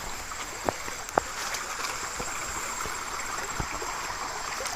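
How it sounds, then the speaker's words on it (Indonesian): A clear river stream flows steadily toward a waterfall downstream, a constant broadband rush with a few faint knocks, heard alone without talk. "ini aliran sungai yang mau ke air terjun bawah sana"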